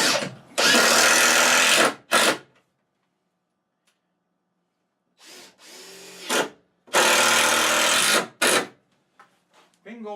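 A power drill drives 2.5-inch construction screws into wood for cheap DIY shelves, in two loud sustained whirring bursts of about a second and a half each, separated by silence, with brief short pulses at the end of each run.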